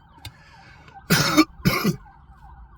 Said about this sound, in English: Sorry about the ambulance in the back.